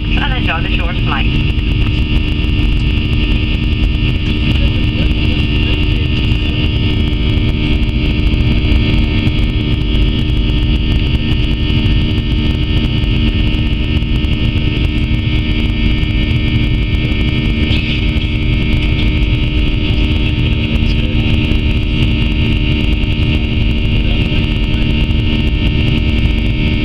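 Steady, loud cabin drone of a Ryanair Boeing 737-800 airliner cruising between Dublin and Birmingham, a dense, unbroken engine and airflow roar throughout with faint voices beneath it.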